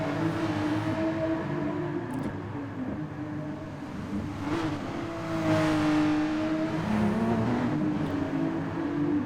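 Race car engines whine and rev on a wet Spa circuit in Gran Turismo Sport, with a steady close engine drone that rises and falls through the gears and the hiss of spray underneath.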